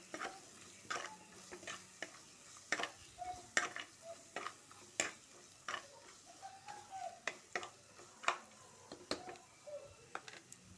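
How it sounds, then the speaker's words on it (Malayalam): Coriander powder roasting in a pan for a Kerala-style anchovy and vegetable dish, stirred with a spoon in repeated light scraping strokes over a faint sizzle, close and fairly quiet. "ഇനി നമ്മൾക്കിതിലേക്ക് മല്ലിപ്പൊടി ചേർത്ത് കൊടുക്കാം. നന്നായിട്ടൊന്ന് ഇളക്കി കൊടുക്കാം."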